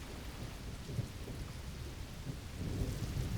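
Rain pours over the African plains with a low thunder rumble underneath, a steady wash of drops that grows slightly louder toward the end, with no one speaking.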